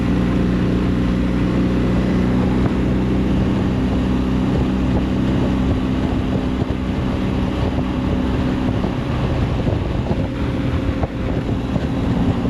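BMW R1300 RT motorcycle cruising at 4000 rpm and 120 km/h, a steady low engine hum with a constant harmonic tone buried under heavy wind roar.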